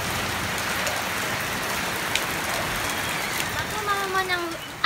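Heavy rain pours steadily and close, with a thunderstorm around it. A sharp crack comes midway, then a few brief knocks and bumps follow near the end.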